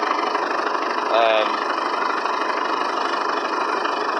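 Steady mid-pitched drone of an International 624 tractor engine running while gears are shifted, with a brief whining tone partway through and no break in the engine noise.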